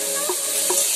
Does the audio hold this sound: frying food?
yes